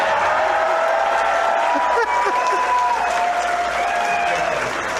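A political rally crowd applauds and cheers a call to defund the CBC, a dense, loud wall of clapping with whoops and shouts layered over it, sustained throughout without pause.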